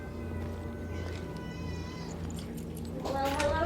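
An annoyed cat in the zombie survival game Dying Light meows and caterwauls over steady game ambience, the cries rising louder and more strained toward the end.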